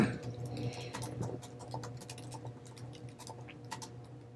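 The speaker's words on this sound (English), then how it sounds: "It's a keyboard." Someone types on a computer keyboard nearby, with faint, soft clicks tapping in an irregular run in a quiet room.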